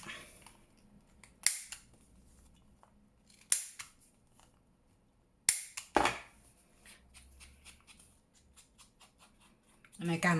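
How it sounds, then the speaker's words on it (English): A corner rounder punch cuts rounded corners on paper ephemera pieces, giving several sharp, close clicks spaced a second or two apart, with quiet handling sounds between them. "Get my corner rounder, just round those off a little bit"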